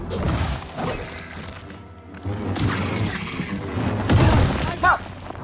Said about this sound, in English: Ah, I hate explosions.